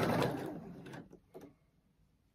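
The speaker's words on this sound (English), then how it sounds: "now we're just going to start stitching" A sewing machine stitches along the edge of a t-shirt, a brief close whirring run that slows and stops, followed by a couple of faint mechanical clicks.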